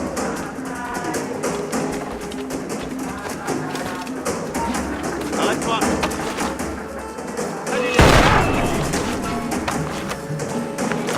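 A single loud, sharp shot from a weapon in the Assassin's Creed Freedom Cry video game, firing once near the end over steady in-game music and ambience.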